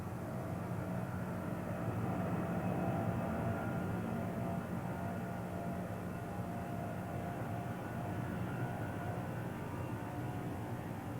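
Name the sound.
Boeing 747 jumbo jet taking off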